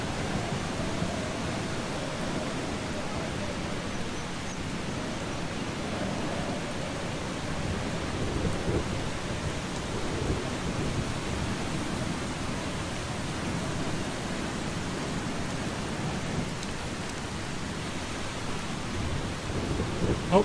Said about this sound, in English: God, this weather's taking a turn for the worst.